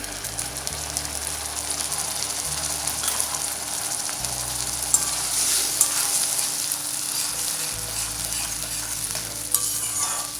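A steady sizzle of onions and tomato sautéing in hot oil, with occasional stirring scrapes, close and continuous, no voices.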